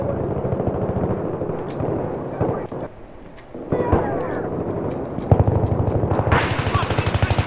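Machine gun fire in the Battlefield 3 multiplayer shooter comes in loud rapid bursts among explosions and game noise, with a long steady rattling burst near the end.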